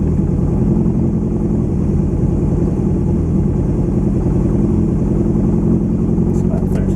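A Lotus Excel engine runs with the choke pulled out, a loud, close, steady idle drone that holds evenly throughout.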